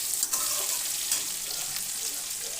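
Crab curry ingredients are stir-fried in a pan, a soft, steady sizzle with a few scraping clicks of stirring up close.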